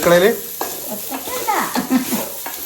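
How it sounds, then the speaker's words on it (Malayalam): Onion, potato, soybean and carrot frying and being stirred in a pan, a close, loud sizzle with scraping stir strokes across the whole stretch. "ഉള്ളി, കിഴങ്ങ്, സോയാബീന്, ക്യാരറ്റ് ഒക്കെ പാടെ നെല്ലയിട്ട് വറ്റിക്കുക."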